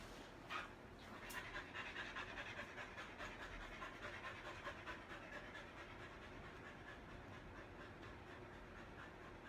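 A dog with storm anxiety panting rapidly and steadily close by, a continuous rhythmic breathy huffing with a brief faint whimper near the start.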